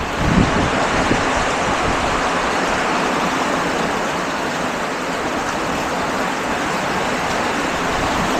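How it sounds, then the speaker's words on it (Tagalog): Heavy rain and gusting wind of Typhoon Paolo, a loud, steady broadband roar that stays dense and unbroken throughout, with wind buffeting close to the microphone. "Lakas ng ulan, no?"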